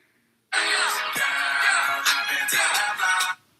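A phone ringtone blares at full volume, starting abruptly and playing a bright, busy electronic melody for about three seconds before cutting off, loud and alone.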